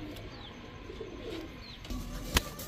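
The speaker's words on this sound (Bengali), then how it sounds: "এখন দেখাবো আরো এক জোড়া টেডি কবুতর" Soft, low cooing of Pakistani Teddy pigeons at close range in a quiet setting, with a brief sharp click near the end.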